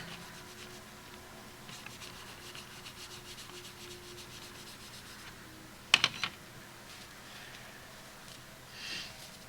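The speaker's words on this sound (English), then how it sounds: "Not putting any pressure on there. I'm just kind of like buffing it." A cloth rag rubbing over a Dodge Dart scale model car gives a quiet, steady scratchy hiss of light buffing, broken near the middle by a few sharp clicks and knocks as the rag or model shifts.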